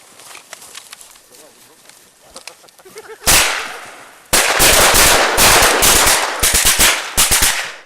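After quieter background sounds, loud bursts of gunfire erupt at a battle reenactment, with rapid repeated shots and volleys close by.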